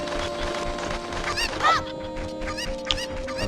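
Chickens clucking in the video game Zelda Ocarina of Time, several short bird calls over a steady game background, one louder squawk near the middle and another brief peak toward the end.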